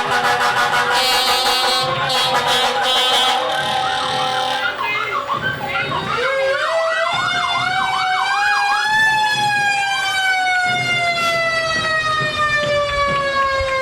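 Antique Newark Fire Department fire engine at a St. Patrick's Day parade, its loud close siren wailing and yelping through rising and falling sweeps before settling into a long steady tone, with crowd voices faintly underneath.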